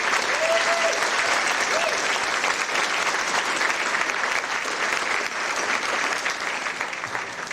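A banquet audience at a space society's 25th anniversary awards dinner gives a steady, full round of applause, a loud unbroken wash of many clapping hands that holds for the whole stretch.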